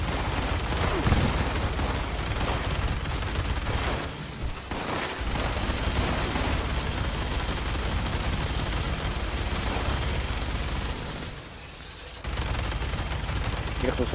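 Dense, continuous gunfire from a video game firefight against cultists, bursts overlapping with booms and explosions, with brief lulls, under tense talk between players.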